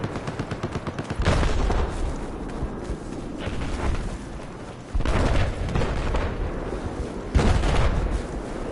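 Gunfire in the video game Battlefield 4 in hardcore mode: several loud bursts of shots and booms, each about a second long, break over a rumbling background of battle noise, with no talking.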